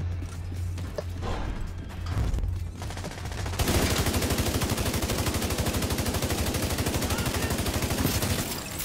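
Sustained rapid automatic gunfire at incoming hostiles in a video game, loud and continuous for over five seconds after an opening stretch of game noise.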